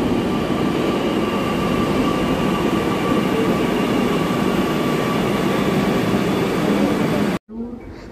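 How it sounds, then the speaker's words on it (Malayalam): A Kochi Metro train pulls into the station with a loud, steady rumble and whine that fills nearly the whole clip, then cuts off abruptly near the end. "ഞങ്ങൾക്ക് പോവാനുള്ള മെട്രോ ആണ് വരുന്നത്."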